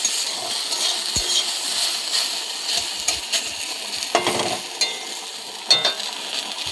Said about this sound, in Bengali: দেখো অনেকটা ভাজা হয়ে এসেছে, ভাজা পুরোপুরি হয়ে গেলে আমি তুলে নেব।